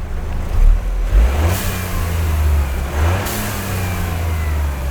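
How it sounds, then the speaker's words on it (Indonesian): A Toyota Yaris engine with a blow-off valve revs up and drops back twice, each rev ending in a sharp hissing whoosh of released air, loud and close, with no talking. "sekarang kita tes suaranya si blow off valve setelah kita"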